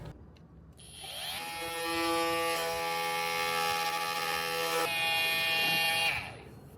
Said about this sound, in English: I'm going to very carefully cut these T's off with this multi-tool.